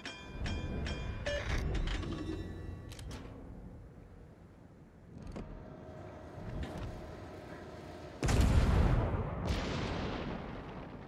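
Warship gun turrets in World of Warships turn with a low mechanical grinding and ratcheting whine, accompanied by sporadic metallic clanks and a sudden loud rumbling boom near the end.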